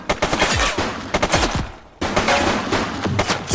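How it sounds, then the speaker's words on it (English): Rapid bursts of automatic gunfire from a suspect in The Precinct, a police video game, crackling loud and close in dense volleys with a brief pause at the midpoint before the shooting resumes. "She's shooting!"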